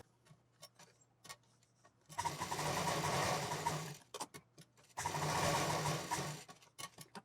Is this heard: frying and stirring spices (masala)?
no